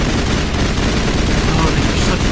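Sustained, dense gunfire from the Mass Effect Legendary Edition game on Feros, a loud continuous rattle of shots with no clear gaps across the whole stretch.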